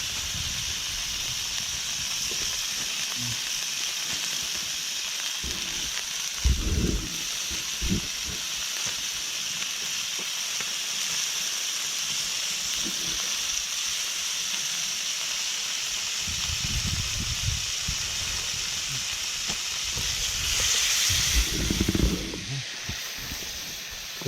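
Steady hissing sizzle of foraged prawns frying in a hot pan on a beach, continuous throughout with a few louder bursts of crackle and stirring.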